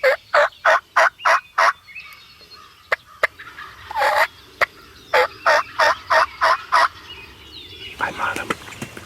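Wild turkey gobbling during a hunt, a series of loud, rapid rattling gobbles in bursts, repeated several times close by, with a few sharp clicks between calls.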